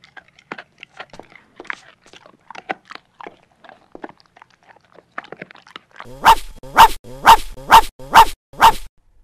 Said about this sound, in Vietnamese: con chó này, sao lại cắn người ta lung tung vậy hả?